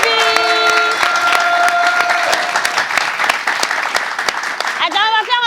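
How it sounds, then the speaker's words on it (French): A crowd claps enthusiastically for several seconds, with cheering and excited voices mixed in, ending with a shout. "on applaudit maman Atibi"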